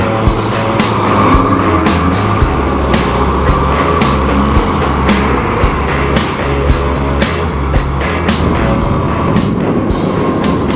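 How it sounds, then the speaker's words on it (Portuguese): A truck passes on a road in the Cerrado countryside, heard from a moving Honda Bros 160 motorcycle, with a loud continuous engine and wind roar and sharp bumps throughout. "Caminhão que não acaba mais."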